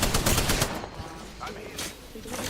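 Rapid automatic gunfire in the battle royale game Apex Legends, with a dense cluster of loud bursts at the start, then scattered shots and weapon clatter continuing through a brief close-up firefight.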